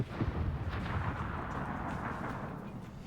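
Ship guns firing in a World of Warships match, heard as a series of deep booming blasts and rumbling detonations that keep a heavy, continuous low roar throughout.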